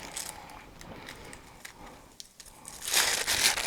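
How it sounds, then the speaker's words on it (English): Crinkling and rustling of plastic packaging as a Summer Breeze colored wig for a Dollfie Dream doll is pulled free, a close run of crackles that grows louder and busier toward the end. "So let's pull this wig out"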